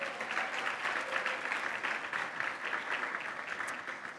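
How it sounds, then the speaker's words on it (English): An audience at a college alumni Hall of Fame induction ceremony applauds for the new inductees, a dense, steady wash of clapping from a crowd at some distance. "let's give them a round of applause."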